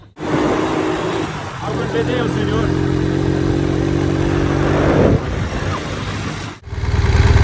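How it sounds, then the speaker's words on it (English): A motorcycle ridden off by a police officer in Venezuela, its engine droning steadily and rising near the middle before cutting off, with a second burst of engine noise at the very end. "So I tried to film the cop driving my bike, but he took off a little bit"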